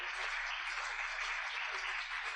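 An audience at a water-themed seminar conference applauds, a soft, even wash of many hands clapping at a distance for a couple of seconds without a break.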